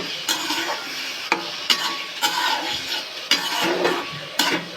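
Tomato mash being stirred and mixed in a pan with turmeric and salt: scraping, clattering utensil strokes against the pan over a low sizzle, close up, in irregular bursts with no talking.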